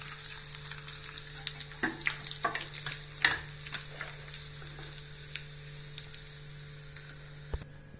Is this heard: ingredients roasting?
yes